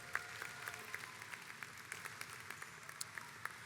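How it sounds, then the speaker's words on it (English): Applause at a law school diploma ceremony for the class of 2023, honoring members of the armed forces. Distant, steady clapping from a large seated audience, rising and falling faintly over a few seconds with no speech. "Let's have a round of applause for them as well."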